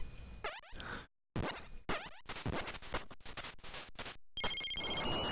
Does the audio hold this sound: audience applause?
no